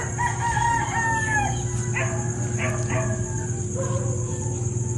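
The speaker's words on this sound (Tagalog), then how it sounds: "Tilawkan po ang mga manok." Several roosters crow in the dark before dawn at about five in the morning, with overlapping calls against a steady background hum, alongside a dog barking.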